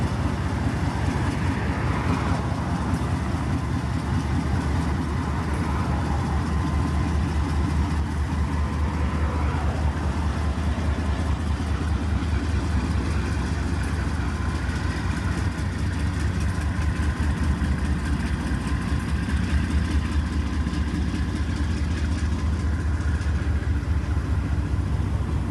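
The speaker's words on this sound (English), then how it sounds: "Here's a train ending its run from Chattanooga." A CSX freight train from Chattanooga rolls into South Radnor Yard, a steady low diesel engine rumble with constant rolling noise that stays loud and even throughout, with no voices.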